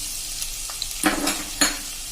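Chopped green chillies drop into a hot pan with finely chopped onion, giving a few short sizzling bursts and a stir close by, over a low frying hiss.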